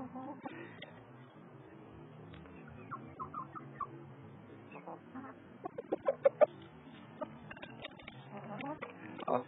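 A flock of backyard chickens clucks in bursts, with several quick close clucks in the middle and softer ones scattered throughout, mixed with rustling and occasional talk.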